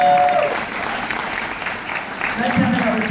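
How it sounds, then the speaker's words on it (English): An audience at a Sundance film screening Q&A in Salt Lake City applauds, a continuous full clatter of many hands with a few voices mixed in near the end. "And give yourself a round of applause."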